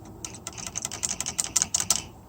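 A rapid run of sharp, light clicks from the voltage regulator of a 1965 Mustang, irregular and accelerating, close by and fairly quiet, ending abruptly.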